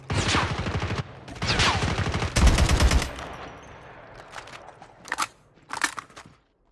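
Rapid automatic gunfire from the Call of Duty Mobile game, long close bursts of rattling shots followed by a few shorter, fainter volleys, with no talk.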